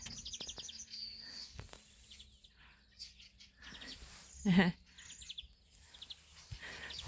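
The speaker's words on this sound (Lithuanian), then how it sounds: "Kiek paukščiukų čirška." Small birds chirp in quick, high bursts at a moderate distance in a village at sunset, with a murmur of voices and a brief louder call partway through.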